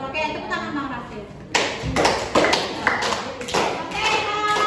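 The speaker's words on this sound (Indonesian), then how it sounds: "tepuk tangan Bang Raffi" Students in a classroom clap their hands, breaking into a burst of dense, uneven clapping partway through, with voices mixed in and bright percussive hits continuing to the end.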